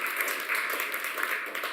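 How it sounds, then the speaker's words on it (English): An audience at a panel session of a global forum in Zurich breaks into a steady round of applause, a dense wash of clapping that holds evenly for the whole moment with no voices over it. "Round of applause quickly for him"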